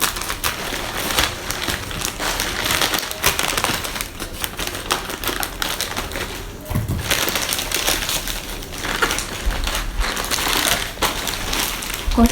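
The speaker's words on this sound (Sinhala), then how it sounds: "අපි මේක මේ විදිහට කපන්න." A plastic parcel package from an online shopping haul is cut open, giving steady crinkling, crunching and rasping plastic noise with brief pauses, close and fairly loud throughout, with no talking.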